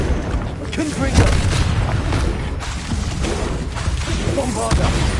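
Confringo blasting spell going off in Hogwarts Legacy, a loud booming burst among a dense, continuous wash of spell effects and combat noise, with a voice calling out over it.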